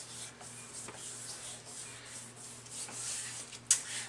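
Paper being rubbed down by hand onto a handmade anniversary card, a soft repeated brushing and scraping with a steady rhythm, close and quiet over a low background hum, ending in one sharper scrape.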